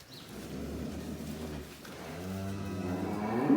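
A cow at a farm where the herd is being sent off to auction lows in long, deep moos, one after another, close and fairly loud with a quieter pause in between.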